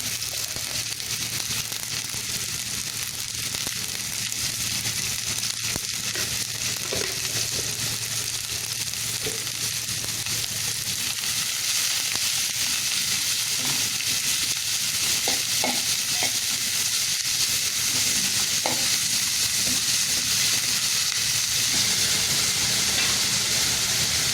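Chopped onion with a little salt sautés in hot oil for Malabar chatti pathiri, giving a loud, steady sizzle with occasional soft stirring scrapes, and no talk.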